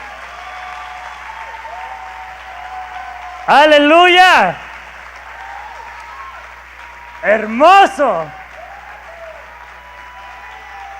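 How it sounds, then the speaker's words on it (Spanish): Steady applause from a church congregation runs across the clip at moderate level, broken twice by a man's loud excited exclamations. "Apláudele bien si le vas a aplaudir."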